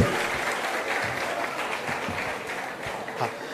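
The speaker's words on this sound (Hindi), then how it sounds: "एक बार केदार सर के लिए भी ताली बजा दीजिए" An audience claps for a teacher called Kedar at a gathering, a dense, steady burst of applause lasting a few seconds, with some voices mixed into the clapping.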